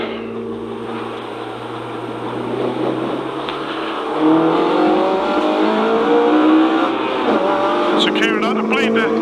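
Race car engine droning and revving on the Snetterton circuit during qualifying, heard from inside the car, with the pitch climbing through gears and a voice speaking over the engine.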